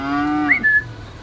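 Single cow mooing on a small dairy farm, a loud, close, drawn-out low call that rises in pitch toward the end, with no one talking.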